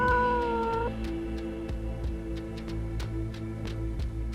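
A cat meows once, drawn out and fairly close, during a home news broadcast recording, over a steady hum with scattered soft taps and clicks.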